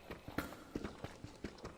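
Soft, irregular footsteps in a Minecraft cave, a handful of quiet taps spaced unevenly over a low background hush.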